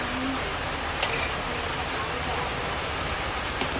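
Steady rain patters continuously, a soft broadband hiss of drops on a surface with a few faint clicks, fairly close and unbroken throughout.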